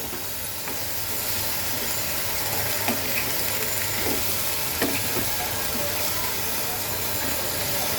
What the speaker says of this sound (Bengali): আমি এখন এটাকে কষাবো